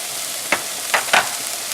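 Beans and corn mixture stirred into frying onions and peppers for a taco samosa filling, with a steady background sizzle broken by three short scraping stirs, the last two close together.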